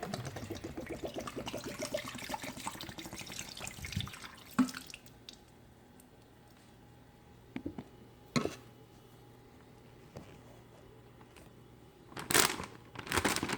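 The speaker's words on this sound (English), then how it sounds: "I'm just going to go ahead and pour my pickle juice in there" Pickle juice pours steadily into a container for a few seconds, then gives way to scattered drips and small splashes with quiet handling noises between them.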